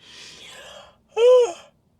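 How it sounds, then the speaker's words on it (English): A single person yawns close to a microphone during a relaxed podcast chat about the film industry, a breathy exhale followed by a short voiced, rising-and-falling yawn sound with silence after. "Now I'm yawning on this mic."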